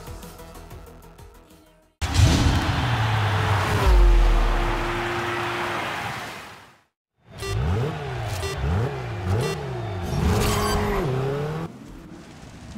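Race car engines roar and rev loudly in the GRID Legends mobile racing game, one sustained surge, a brief silent gap, then repeated rising and falling revs as gears shift.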